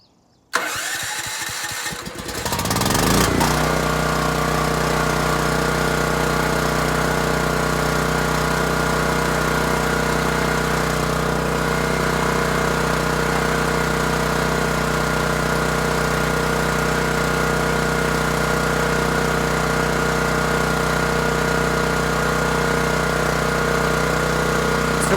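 A Champion 7500-watt dual fuel generator cranks briefly with a rattling start, catches within a few seconds, and settles into a steady, loud, close mid-pitched engine hum that runs unchanged to the end.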